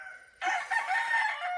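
A pure Golden Boy sweater gamefowl rooster at a game farm lets out a single loud, close crow that starts abruptly and holds strong to the end after a faint lead-in.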